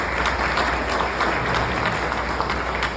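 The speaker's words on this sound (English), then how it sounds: "give yourselves a round of applause for that" Audience applause at a Calgary mayoral campaign launch speech, a full room clapping in a steady, dense patter for about three seconds, close and even in loudness.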